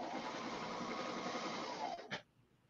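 A Brother Airflow serger stitches outdoor home-decor fabric in a steady, close mechanical whir that runs for about two seconds, then gives a short final burst before stopping.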